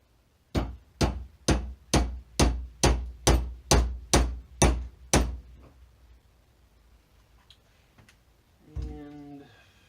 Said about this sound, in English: Drive in this drive pin.